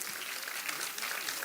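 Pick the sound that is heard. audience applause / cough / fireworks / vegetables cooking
audience applause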